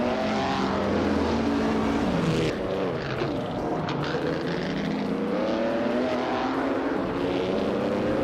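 A pack of race cars, among them a 1957 Curtis Craft 500B, drone loudly in a racing video game, with layered engine whines shifting pitch as they run close together. No one speaks over it.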